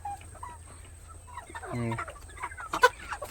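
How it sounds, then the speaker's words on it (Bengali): Chickens cluck inside a poultry shed with dry sawdust litter: scattered soft clucks build to a short harmonic call, then a sharper squawk near the end over a low steady hum. "এই দেখো মুরগিগুলো খুবই অ্যাক্টিভ আছে, ওরা খুবই সুস্থও আছে"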